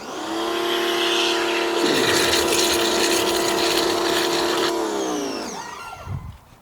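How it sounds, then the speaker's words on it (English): Car wash soap being sudsed up in a bucket: a loud, steady rush of water with a motor-like hum that runs for several seconds, then cuts off near the end. "We got our bucket with soap. Let's suds it up."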